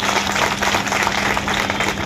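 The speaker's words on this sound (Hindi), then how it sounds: "आप उनके लिए तालियां बजा सकते हैं।" Audience applause at a public event in Chhindwara, India, a steady wash of clapping from a crowd lasting the whole short stretch, with no speech over it.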